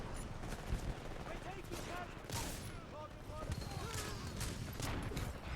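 Rapid gunfire from the video game Titanfall 2 fills the clip with dense, continuous bursts of shots, with bits of game voice and effects mixed in.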